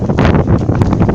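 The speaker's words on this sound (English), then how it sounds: "Guys, it's pretty dang windy out here." Strong wind buffets the microphone in a backyard during an October windstorm, a loud continuous roar with rushing gusts and no speech.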